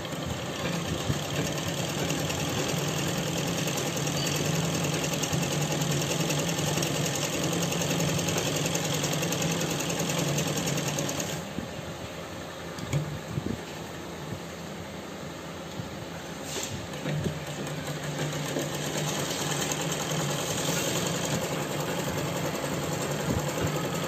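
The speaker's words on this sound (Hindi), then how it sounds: "सबसे पहले हम आसन की सिलाई लगाएंगे।" A sewing machine runs steadily, stitching the seat seam of a pair of pants made with a belt at the front and elastic at the back. The motor whirs loud and close with no talk, dipping briefly partway through before running on.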